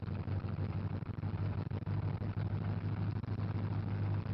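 A small airplane engine holds a steady run-up at 1500 RPM, a constant low droning hum with no breaks, moderately loud and close.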